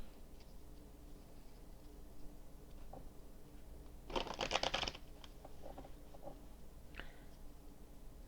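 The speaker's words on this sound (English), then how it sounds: "you guys enjoy the way that I shuffle because you get to see the bottom of the card" Tarot cards being shuffled, a faint, close riffle lasting under a second amid quiet room noise, with a few soft ticks and taps before and after it. No one speaks.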